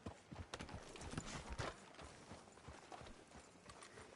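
Horse hooves clip-clop steadily in the Western video game Red Dead, a continuous rhythmic trot over a dense, noisy mix of ambient game sound, with no voices.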